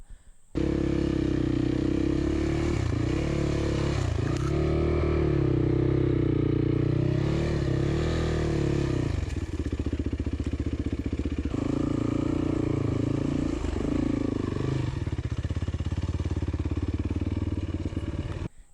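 A dirt motorcycle climbs a steep, loose, low-traction forest road trail, its engine droning steadily and rising and falling under light throttle. Gravel clatters and scrapes beneath the tires, with no talk.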